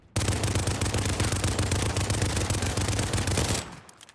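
A pair of Renetti machine pistols fired akimbo in Modern Warfare pour out a rapid, unbroken stream of loud close shots for over three seconds, then stop abruptly with a short fading tail.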